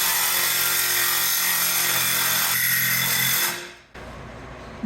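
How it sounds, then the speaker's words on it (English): A reciprocating saw with a wood blade cuts loudly and continuously on an old 1967 Dodge A100 truck, a harsh steady rasp that winds down and stops near the end, followed by a quieter background hum. "Gently sawzall it."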